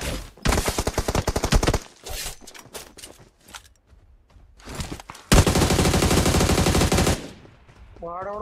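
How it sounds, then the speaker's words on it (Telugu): Gunfire in an online shooter video game, two dense bursts of rapid rattling shots at close range separated by quieter gaps with scattered single cracks and shuffling, ending with a brief tonal game cue. "వాడెవడో స్నైపర్ కొడుతున్నాడు చూడు"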